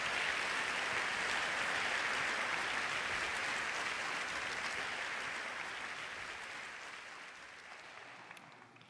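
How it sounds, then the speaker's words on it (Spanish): Church congregation applauding during a sermon in a large hall, a dense, sustained wash of clapping that holds steady, then gradually fades over several seconds before cutting off. "Dale a Jesús ese aplauso hermoso."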